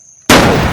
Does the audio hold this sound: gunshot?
yes